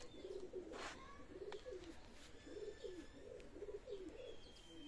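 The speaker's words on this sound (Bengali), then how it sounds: "ভিউয়ার্স ব্ল্যাক শাহরানপুরি অসাধারণ কবুতর, আপনারা নিঃসন্দেহে নিতে পারবেন।" Black Saharanpuri pigeons in a loft coo in a steady run of about six low, rolling phrases, with faint chirps and light rustling in the background and no talking.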